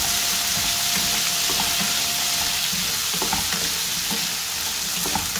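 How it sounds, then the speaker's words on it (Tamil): Whole shallots sautéing in a pan for shallot garlic curry, a continuous close sizzle and hiss of frying with occasional soft stirring scrapes throughout. "வெங்காயத்தை நல்லா வதக்கிக்கணும்."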